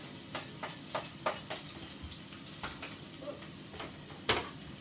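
Ginger frying in melted coconut oil in a pan for parsnip soup, giving a faint, steady sizzle with occasional soft stirring clicks and scrapes and no talking.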